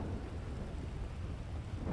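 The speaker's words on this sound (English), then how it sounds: "we're in the middle of a thunderstorm." Thunderstorm in the video game GTA: a dense, even wash of heavy rain with low rumbling thunder, constant and fairly faint, with no voices.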